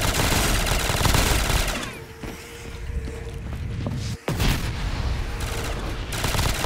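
Death Machine gunfire in Call of Duty Zombies, dense rapid automatic fire in long loud bursts with a short lull midway before the shooting resumes.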